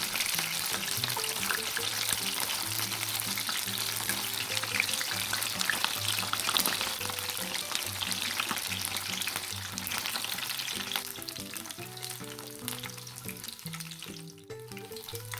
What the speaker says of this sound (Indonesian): Lalu goreng tahunya sampai kering atau setengah kering juga bisa kok.